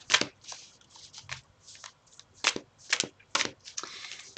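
Tarot cards are shuffled in quick riffling bursts, a steady series of crisp flutters close up with short pauses between them.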